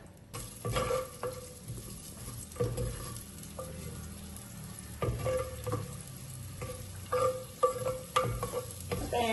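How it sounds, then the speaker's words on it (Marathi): Onion fries in two tablespoons of oil in a clay pot over medium heat, with a steady close sizzle broken by scraping stirs and clinks. "हें पयलो हांव कांदो घालता."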